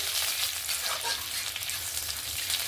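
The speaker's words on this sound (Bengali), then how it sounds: "ফোড়ন আর রসুনটাকে একটু ভালো করে ভেজে নেব।" Chopped garlic and five-spice seeds frying in hot oil, a close, even sizzle with soft crackling that holds steady throughout, no voices.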